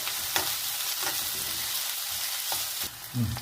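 Chopped onion and green chillies sauté in a hot pan, crackling steadily while a spoon scrapes and stirs in a few sharp strokes, with a dull knock near the end.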